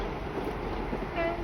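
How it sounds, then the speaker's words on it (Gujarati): A train passes in the countryside between Bhanvad, Ranavav and Porbandar, heard as a faint, distant rumble with a short tonal horn-like note near the end. "આમ જોવો ટ્રેન જાય જોઈ લો"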